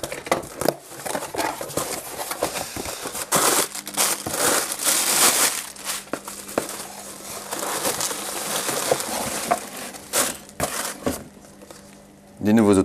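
A package of new stickers being unwrapped, with close, loud plastic crinkling and crumpling in irregular bursts, plus occasional rustles and taps, and no clear talking.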